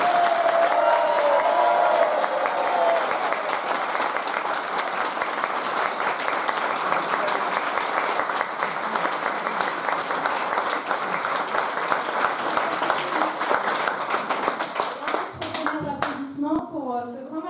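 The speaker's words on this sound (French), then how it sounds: "Je voudrais aussi un tonnerre d'applaudissements pour notre pianiste adoré" A choir concert audience gives a long round of applause for the pianist, dense clapping throughout, with faint talk, a few higher voices and a brief vocal note near the end.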